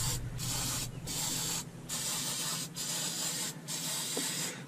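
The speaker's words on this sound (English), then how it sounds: "Mercury's own Phantom Black spray enamel" An aerosol can of black spray enamel sprays onto a rusty marine engine in a series of steady hissing bursts, about five short passes separated by brief pauses, close and clear.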